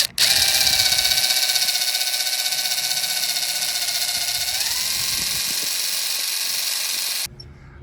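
A power drill drives a self-tapping screw into an RV awning topper, a loud continuous whine whose pitch dips partway through before it cuts off abruptly near the end.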